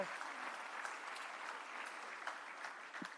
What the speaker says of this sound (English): Another round of applause for Jembekon.